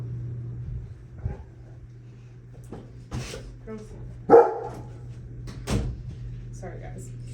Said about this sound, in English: Jackson, don't bark.